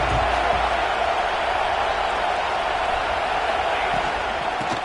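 Stadium crowd noise from a College Football 26 video game broadcast of Texas versus Tennessee, a dense, continuous roar of many voices that stays loud and even throughout.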